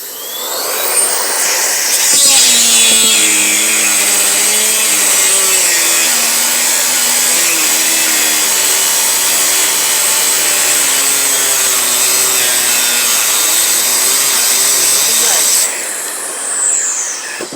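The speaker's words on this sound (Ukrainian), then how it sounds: "Не вистачає потужності такого, такої болгарки китайської, щоб різати керамограніт." A small Chinese cordless angle grinder with a 76 mm disc whines loudly and close as it bites into porcelain tile, its pitch wavering under load, struggling for power, before the cut stops near the end.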